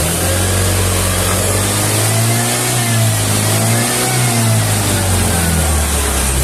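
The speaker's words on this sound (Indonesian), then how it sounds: "Untuk RPM tinggi itu normal, tetapi untuk RPM bawah ke bagian menengah itu terdapat sendatan" Carburetor Vario scooter engine revving steadily and loudly up close, with an uneven, hesitating note; the engine stutters at low to middle RPM but runs smoothly when revved high.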